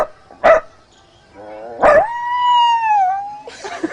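A man imitates a dog with his voice: two sharp bark-like bursts, then a long rising and wavering howl-like tone lasting over a second, loud and close, ending in a rougher burst.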